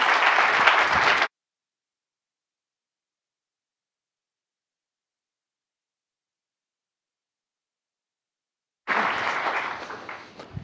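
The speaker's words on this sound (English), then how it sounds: "Nice loud applause there from Jamal." A crowd's loud applause at a live event, a dense burst of clapping that cuts off abruptly, followed by silence and then another sustained wave of clapping.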